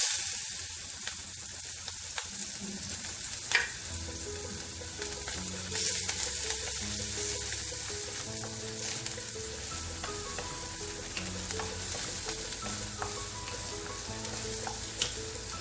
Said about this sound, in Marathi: आपण घालू आता कांदा परतायला मला ठेवू आपण कढईत